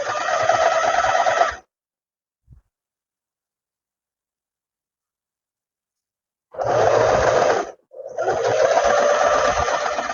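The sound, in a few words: sewing machine sewing a straight seam on trousers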